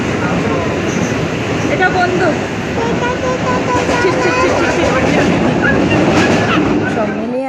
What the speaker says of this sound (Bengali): ঝটপট করে ট্রেনের টিকিট কেটে তারপর আমরা এই যে ট্রেনে উঠে পড়েছি